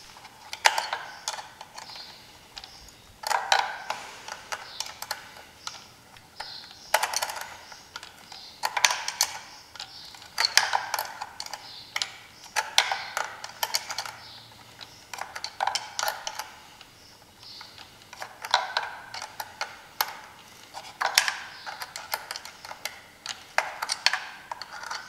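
Allen wrench working loose the spur gear on a Traxxas E-Revo brushless RC truck, giving soft irregular clicks, scrapes and small metallic ticks in quick clusters across the stretch, close and fairly quiet, with no talking.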